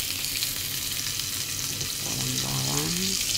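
Garlic frying in a pan for pancit, giving a loud, dense, continuous sizzle close up, with a brief voice murmuring under it near the end.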